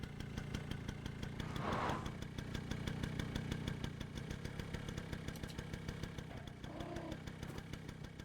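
Steady idling engine of a motorcycle in the video game Stray, a continuous low rhythmic rumble at moderate level running throughout the clip with no talk over it.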